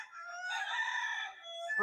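A single rooster crows close by, one long drawn-out call with no other sounds around it.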